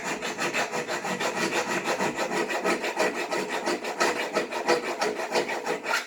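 A metal bumper bracket hole on a 1973 truck's Truflex front bumper is enlarged with a file, giving loud, close, steady rasping strokes in a quick back-and-forth rhythm.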